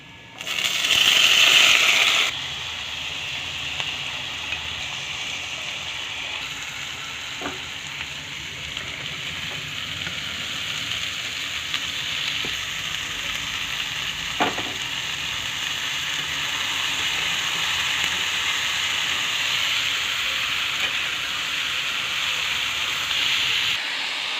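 Potatoes fry in oil with browned onion and garlic, a steady sizzle throughout with a louder clatter at the start as they go in and occasional light utensil clicks.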